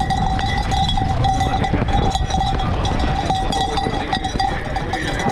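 Cowbells clank and jangle continuously with a bright metallic ring at a vaquejada cattle event in Brazil, steady and loud, over low rustling noise.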